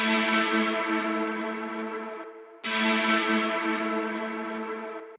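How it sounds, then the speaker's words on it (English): Melodic synth stab made in FL Studio sounds as two long, bright chordal notes, each sustained about two and a half seconds and slowly fading, loud and alone. "Now we have this melodic stab going on"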